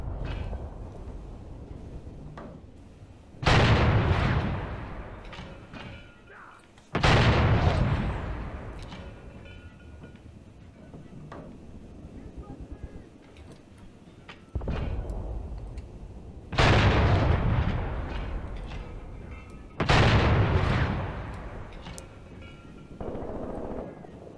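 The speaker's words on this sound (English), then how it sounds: "Let's watch a salvo here." Artillery salvo in the WWII tactical game Graviteam Tactics: Mius Front: a series of five or six heavy booming shots at irregular intervals a few seconds apart, each with a long rolling decay, loud and with no talk.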